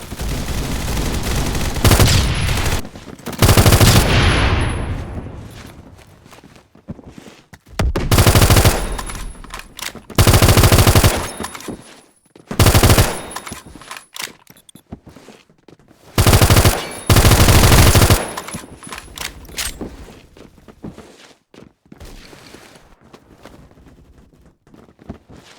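Bursts of rapid automatic fire from a custom M4A1-style rifle build in a first-person shooter, several loud sustained volleys separated by short pauses, with quieter game ambience between them and no talk.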